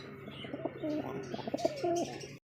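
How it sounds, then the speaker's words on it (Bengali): Pigeons at a Bangladeshi pigeon breeder's farm coo in repeated low, throaty phrases close by, with faint chirps and rustling mixed in before the sound cuts off abruptly. "চলে আসলাম আরো এক পেয়ার কবুতর নিয়ে"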